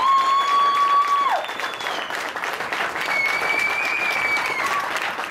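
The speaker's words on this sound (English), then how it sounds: "can we just get one massive last round of applause for all the supporters" A crowd at a community fundraising event in Tennant Creek gives a sustained round of applause, dense and continuous throughout, with faint whistles above the clapping.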